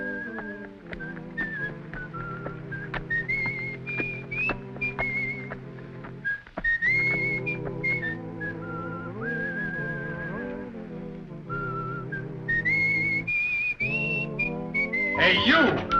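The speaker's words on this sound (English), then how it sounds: "You the guy that was whistling?" Someone whistles a lilting melody, clear and steady, with notes sliding up and down over a quiet background.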